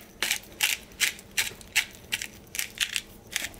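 Pepper grinder twisted over a Korean side dish being seasoned, giving about nine short, crisp grinding bursts in a steady rhythm, close and fairly quiet with no talking.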